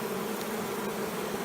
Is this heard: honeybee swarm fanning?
yes